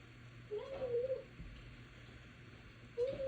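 A pet cat gives two short, clear meows indoors, one near the start and another near the end, each a brief rising-falling cry over a steady low room hum.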